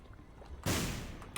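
A single bomb explodes in The Binding of Isaac: Repentance, a sudden loud blast rising out of low background game sound and holding as a dense rumble, with a short click just after.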